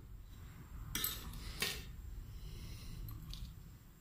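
Kushka rice being stirred in a pot, with a couple of short metallic spoon scrapes and clinks against a quiet background.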